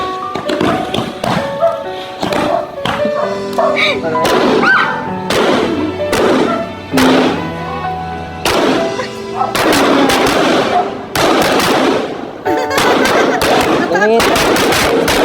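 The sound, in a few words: fireworks exploding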